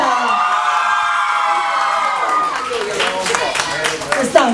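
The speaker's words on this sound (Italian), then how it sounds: "Facciamo un grande applauso a Greta" Audience applauding and cheering for Greta Menchi, a crowd roar with whoops and shouts that gives way to rising clapping in the second half, with voices mixed in.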